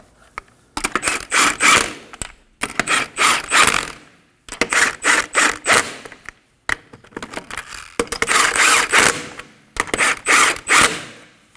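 A ratchet snugs bolts during a front brake flex hose replacement on a 2011-2016 Kia Optima: five loud, close bursts of rapid clicking separated by short silences, with no talking.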